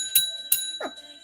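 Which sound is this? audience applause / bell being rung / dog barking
bell being rung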